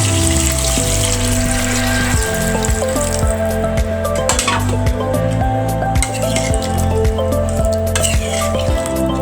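A pot of beef curry bubbles and sizzles steadily as it simmers after water is added, with soft wet pops and crackles running continuously at close range.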